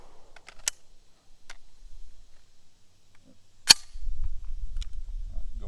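Two sharp suppressed gunshots from a rifle firing subsonic ammunition through a Nexus Evo Gen 1 suppressor, one early and one midway, each a brief crisp crack, with faint ticks between and a low rumble of movement afterward.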